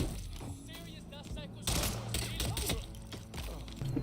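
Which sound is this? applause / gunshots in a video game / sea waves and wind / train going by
gunshots in a video game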